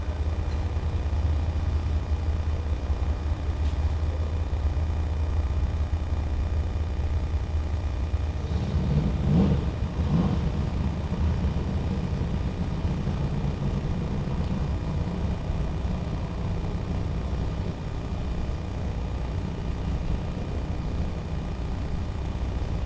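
A Corvette on a drag-racing pass at a racetrack during pro testing, heard as a steady, distant engine rumble that swells briefly near the middle before settling back to a continuous low drone.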